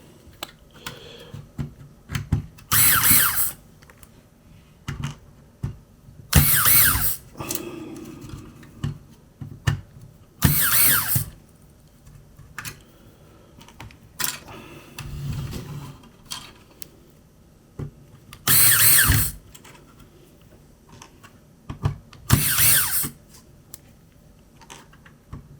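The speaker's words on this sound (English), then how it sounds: "So what I need to do now is go around and remove all the screws." A power screwdriver backs screws out of a Nintendo GameCube case: five or six short, bright whirring bursts spaced several seconds apart, with faint handling and clicking in between and no talking.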